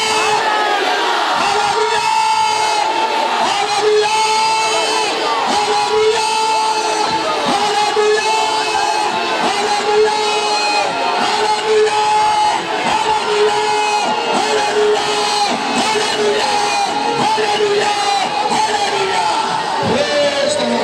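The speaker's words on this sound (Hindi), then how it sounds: "तालियां बजाकर शुक्रगुजारी करें, हाथ लहरा के हालेलुया।" Church congregation clapping and cheering in praise, loud and sustained with shouts, whoops and overlapping voices over continuous applause, plus some music, throughout.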